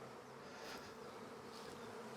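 Dense buzzing of honeybees, a box packed with nurse bees in a cell-builder hive during a strong nectar flow, a steady low hum with no voices.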